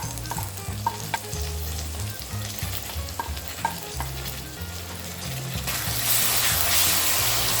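Tomato fries for eggplant bharta in a hot pan, with a steady loud sizzle under light stirring and scraping that swells into a brighter, fuller hiss near the end.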